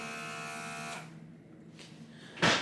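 Mineral Air AirMist airbrush makeup device running as a buzzing electric hum for about a second, then a faint hiss and a brief loud burst at the end.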